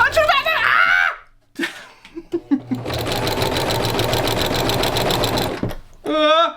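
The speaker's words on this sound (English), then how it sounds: "Oh, I'm sewing!" A sewing machine stitches an accent pillow in a steady, loud mechanical run of about three seconds, broken up by short bursts and followed by a stop. Before and after it a person shrieks and exclaims close by.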